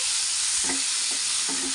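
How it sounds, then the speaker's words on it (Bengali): A close, steady sizzle of onion and tomato frying in a pan, broken by three soft scrapes of a spatula stirring the pan. "পেঁয়াজ ভাজা ভাজা হয়ে গেলে একটা মিডিয়াম সাইজের টমেটো কুচনো কড়াইয়ের মধ্যে দিয়ে দিলাম"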